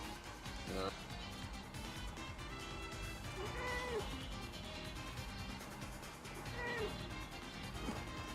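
A domestic cat meows several times near a microphone amid steady background noise and people talking during a tabletop role-playing game session.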